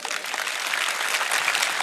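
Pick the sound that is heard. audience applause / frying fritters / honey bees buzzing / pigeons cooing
audience applause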